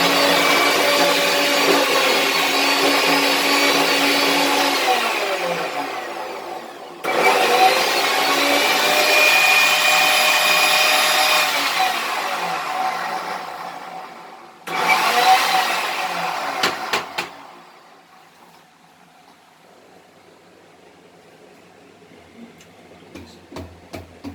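A kitchen grinder whirs loudly while grinding strawberry flavoring, running in steady bursts with brief pauses between them, then spinning down to a quieter rattle, no voices.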